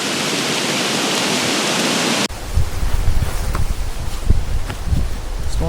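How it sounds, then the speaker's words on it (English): Strong wind roars and gusts ahead of a thunderstorm in the Ozarks woods, buffeting the microphone with low rumbling thumps after a steady hiss at the start. "it was getting real windy"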